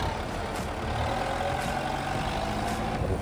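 A 2017 Kubota M9540 4WD tractor running at a steady idle, a low, rumbling diesel drone that holds constant throughout with no speech.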